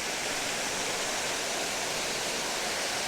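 The Potter's Falls waterfall roars in a steady, dense rush of falling water, loud and continuous throughout with no breaks and no voices.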